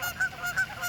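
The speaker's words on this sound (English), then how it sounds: "I think Canadian goose are about to land." Canada geese honk repeatedly beside a lake, several nasal calls arriving in an uneven rhythm at moderate distance, with no talking.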